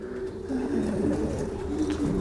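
Racing pigeons returning from a race cooing steadily in low, throaty rolls, several birds overlapping close by with a continuous murmur and no talking.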